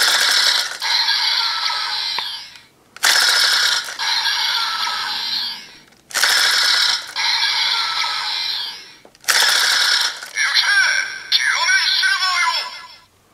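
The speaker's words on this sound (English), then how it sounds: "we can spin the disc for an energy charge sound" A Kiramager DX Shiny Kiramei Changer toy disc is spun four times, each a loud whirring, ratcheting burst lasting a couple of seconds with short pauses between, close up.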